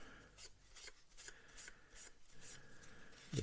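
A towel corner rubs oil pin wash back across a 1/48 Airfix Bristol Blenheim Mk1 model, giving soft, faint, rhythmic scratchy strokes repeated several times with no talk.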